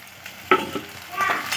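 Tomatoes tipped into a pan of fried onion, ginger and garlic for chicken curry: a sudden clatter and burst of hissing sizzle, then a rising, brighter frying noise.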